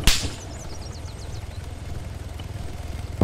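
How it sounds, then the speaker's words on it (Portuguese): Three helicopters in the military game ArmA 3 pass overhead with a fast, rhythmic rotor chop and low engine drone, steady and moderately loud, with a sharp crack at the start and end. "Ó, tem 3 helicópteros passando por cima da gente aqui."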